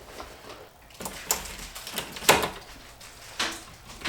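A bedroom door is test-fitted into a mobile home doorframe, giving scattered knocks, thumps and light scrapes of wood against the frame at irregular intervals, fairly quiet, with no speech.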